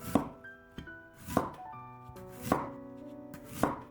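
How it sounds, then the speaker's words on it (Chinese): Knife chopping radish on a cutting board, four sharp, evenly spaced strokes about a second apart, close and clear with no talking. "然后将萝卜放在案板上，先切成薄片"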